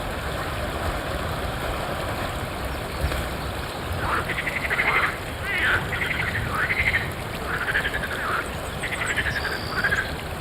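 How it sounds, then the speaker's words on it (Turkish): Frogs croak in a rhythmic chorus from mid-distance, repeated pulsing calls rising over a constant background hiss. "Nerede bu kurbağalar?"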